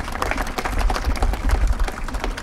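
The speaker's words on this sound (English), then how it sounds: "Give her a round of applause." An audience at a street-naming ceremony in Gary, Indiana gives a former county commissioner a dense, steady round of applause close by, with low rumble underneath and no talking.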